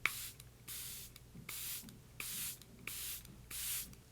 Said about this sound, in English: I'm going to spritz this Charlotte Tilbury Airbrush Flawless Setting Spray.